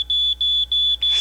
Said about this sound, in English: Test your smoke detectors once a month. Even a kid can do it.